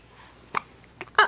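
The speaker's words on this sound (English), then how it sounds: "Uh-oh, we got hiccups." A baby hiccuping, three short sharp hiccups spaced unevenly over about a second, close and fairly soft against a quiet room.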